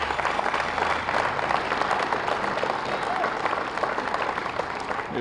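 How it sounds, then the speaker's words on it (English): Audience applause at a library hall grand opening ceremony, sustained dense clapping from a crowd filling the room at steady loudness, with some voices underneath. "if we could give them a quick round of applause"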